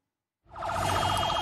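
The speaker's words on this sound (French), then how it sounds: "Ces sirènes hurlantes" Wailing sirens of makeshift ambulances bringing wounded Palestinians to the hospital in Khan Younis, Gaza, rising suddenly out of silence and holding loud and steady with fast warbling tones.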